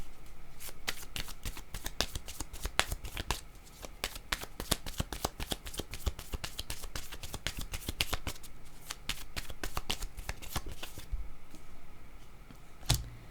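Oracle cards shuffled by hand for a card reading, a long run of rapid crisp riffling and flicking clicks, close and continuous with brief pauses, and no talking over it.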